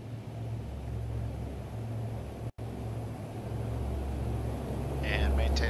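C-130 Hercules engines spooled to full throttle for takeoff in the DCS World flight simulator, a steady dense droning roar that holds level throughout and swells slightly toward the end.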